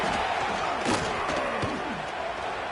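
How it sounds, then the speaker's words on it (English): Loud, steady roar of a home football stadium crowd, a dense wall of cheering that never lets up, with a few thuds and shouts rising out of it near the middle. "listen to this crowd noise. This stadium is vibrating"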